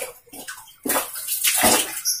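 Water rushes into a washing machine drum as it fills, a close, loud, gushing splash that starts abruptly after a few faint sounds and continues strongly.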